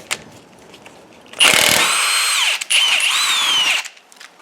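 Power tool spinning off a brake caliper bolt on a Honda Pilot, loud and close: two sustained whirring bursts with a pitch that rises and falls, separated by a short break, with quiet before and after.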